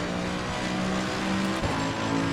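A race car in Assetto Corsa Competizione braking hard, a loud sustained engine drone with shifting pitch and a brief dip and thump near the end, no talking.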